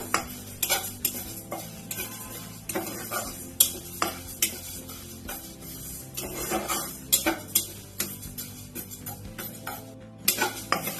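Moong dal being stirred and dry-roasted in a pan, with a utensil repeatedly scraping and knocking against the metal in an uneven rhythm and a soft rattle of grains, close and clear with no talking.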